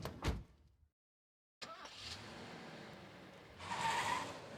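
A car door in the horror game Spirit Hunter: Death Mark, one sharp close thump followed by a pause of near silence, then a steady low ambient bed with a brighter hiss near the end.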